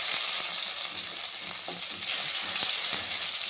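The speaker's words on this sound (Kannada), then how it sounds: "ಯಾವುದೇ ಒಂದು ಐಟಮ್ಸ್ ಹಾಕಿದ್ರು 1-2 ನಿಮಿಷ ಹುರ್ಕೋಬೇಕು." Ginger frying in a pan for tomato bath gives a steady, close sizzle with a few soft stirring scrapes and no talking.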